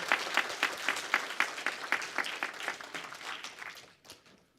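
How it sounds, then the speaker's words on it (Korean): A church congregation claps in congratulation at an evening teachers' dedication service, a brisk, rhythmic volley of many hands that gradually thins and fades out over several seconds. "축하 박수 보내주세요"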